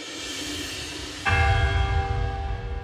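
Church bell on Christmas night struck once after quiet, a loud sudden clang with long ringing overtones that sustain and slowly decay, heard alone.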